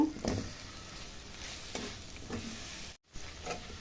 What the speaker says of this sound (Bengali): এবার ভালো করে ভেজে নিব।